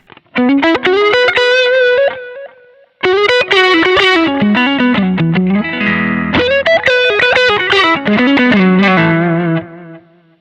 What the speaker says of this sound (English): I can switch on the tape echo